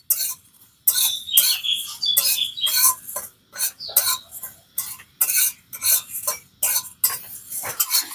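Spices are dry-roasted in an oil-free pan for a raw mango pickle and stirred in quick scraping, rattling strokes, close and crisp, in short bursts with brief silent pauses between.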